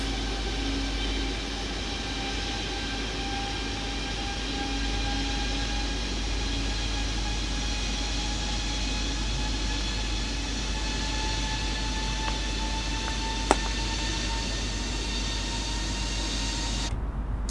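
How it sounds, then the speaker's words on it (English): A second jet, an Airbus A330neo-class airliner in Microsoft Flight Simulator, rolls for takeoff at Lisbon, giving a steady loud engine roar with high whining tones that slowly rise in pitch and hold nearly unbroken, with no voices over it. "You can just see the second aircraft now doing its takeoff."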